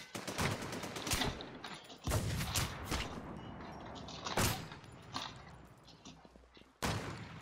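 Rapid bursts of loud video game gunfire from Infestation: The New Z, including a VSS Vintorez, crack repeatedly over a dense, noisy background, with sharp single shots standing out at irregular intervals.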